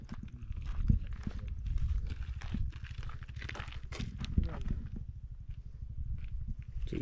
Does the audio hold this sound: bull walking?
yes